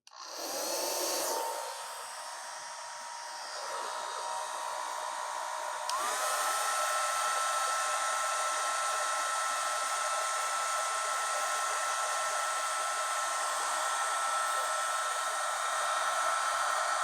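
A hooded hair dryer roars steadily for the whole stretch, loud and close, with a brief shift in pitch and power early on as the setting changes, then a constant whooshing hum to the end.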